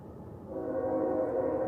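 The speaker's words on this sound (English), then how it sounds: "Night trains honk a lot." A night train on the Main Line sounds a long, loud, sustained horn blast that swells in and holds steady, with low rumble beneath and no talk.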